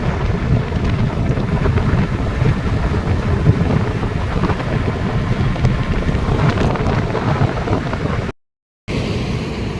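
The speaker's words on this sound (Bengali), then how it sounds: "আর যা জোরে হাওয়া হচ্ছে, গাড়ি টানাই যাচ্ছে।" Strong wind roars steadily into the microphone during a long-distance Activa scooter ride on a cloudy day, a loud, constant rushing buffet with no voices, briefly cutting to silence near the end before resuming.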